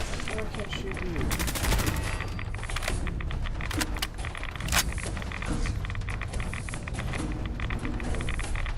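Gunfire in the video game Fallout 4 sounds as rapid bursts of automatic shots and sharp single cracks over a dense, continuous game soundscape, with a voice talking underneath.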